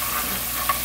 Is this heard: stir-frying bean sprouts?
yes